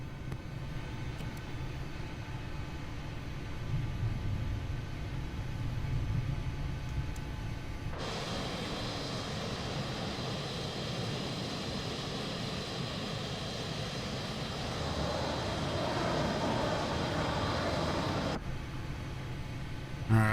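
Aircraft engine drone in the Microsoft Flight Simulator video game, a steady, continuous hum that brightens into a harsher, louder tone in the middle stretch before easing back, with no speech over it.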